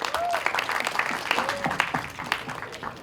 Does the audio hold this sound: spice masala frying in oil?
no